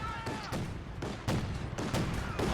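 Flak Panzer firing in the video game Company of Heroes: a quick series of sharp, loud cannon reports at roughly half-second intervals amid battle noise and faint talk.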